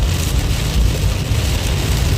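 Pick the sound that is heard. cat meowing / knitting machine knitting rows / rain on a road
rain on a road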